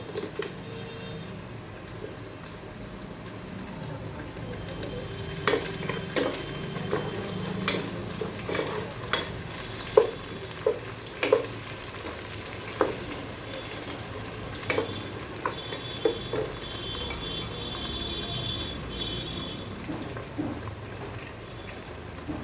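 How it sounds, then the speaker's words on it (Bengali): Onions and chopped tomatoes frying in a pan for chicken curry, a steady close sizzle punctuated by irregular clicks and scrapes of stirring, with no talk. "পেঁয়াজগুলো আমি লাল লাল করে ভেজে নিয়েছি এখন এতে আমি টমেটো কুচি দিয়ে দেবো"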